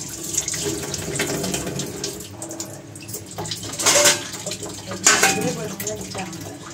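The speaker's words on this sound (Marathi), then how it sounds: "कैरी पहिली धुवून घेते." Raw mangoes being washed under a running tap in a sink, continuous splashing water with brief louder gushes and soft handling noises near the basin.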